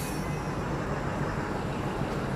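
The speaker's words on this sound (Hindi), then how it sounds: "पर ये तो कोई नॉर्मल लोकल ट्रेन होती है।" Local passenger train at a crowded Indian railway station platform, a steady broadband rumble with low-end rolling noise and no clear talk.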